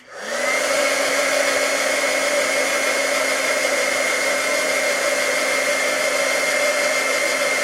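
A hair dryer blows steadily on wet paint on a painted dragon's eye, switching on with a brief rise and then holding a loud, even whoosh with a constant tonal whine, close by, with no talking.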